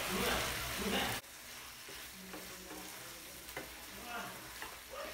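Eggs go into a masala egg gravy cooking in oil in a pan. A loud burst of sizzling comes first, then steady frying with light stirring and the clinks of a spoon.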